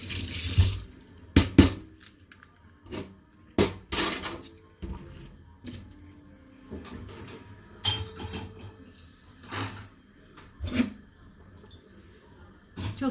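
Water splashes and gushes into a kitchen sink as cooked pasta is drained, loud and close, in uneven surges with clattering knocks between pours.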